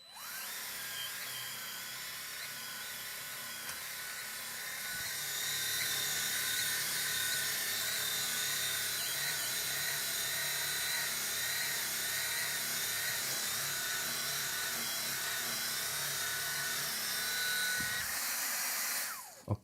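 An Anker Mach V1 Ultra all-in-one vacuum runs on suction with a steady high-pitched motor whine and broadband airflow hiss, growing louder after a few seconds as it works, then cutting off near the end.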